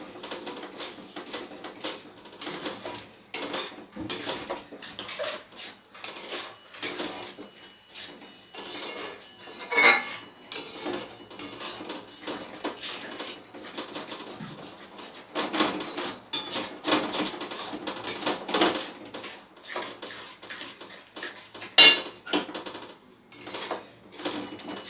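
Potol korma ingredients being mixed together in a pan with a little water, irregular clatters and scrapes of a spoon against the pan, some knocks louder than others, with no talk.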